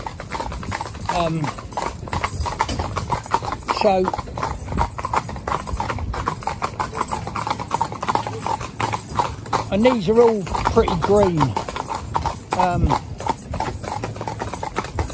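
Steady clip-clop of a four-in-hand team of horses' hooves pulling a carriage on a road, rhythmic and close, with a person talking over it and occasional harness jingles.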